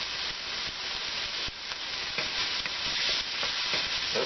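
Broth sizzling and hissing hard in a wok over a hot Silverfire Hunter biomass stove fed with twigs, a steady close crackling fry with a few stirring scrapes and no talk.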